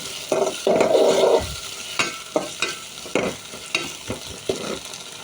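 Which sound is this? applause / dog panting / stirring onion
stirring onion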